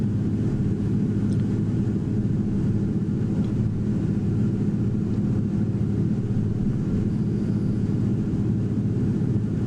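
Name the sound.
Beaver aircraft approaching to land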